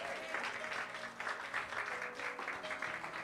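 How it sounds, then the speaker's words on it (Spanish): A church congregation gives a loud round of applause to the Lord during a service, a steady wash of many clapping hands heard at a distance and fairly faint, continuing without a break. "¿Cuánto le dan un fuerte aplauso al Señor?"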